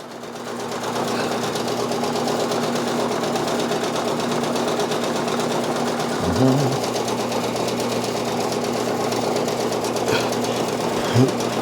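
A Brother Persona PRS 100 embroidery machine stitches in a steady, fast mechanical chatter that runs continuously at close range, with a couple of brief louder clunks partway through and no talking.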